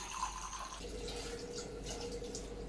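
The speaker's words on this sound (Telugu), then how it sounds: "సో ఇందులోకి ఒక 2 గ్లాసెస్ వాటర్ అయితే యాడ్ చేసుకోవాలి" Water poured into a cooking pot for a lentil and drumstick dal, a steady splashing fill that carries through the whole stretch at moderate level with no talk.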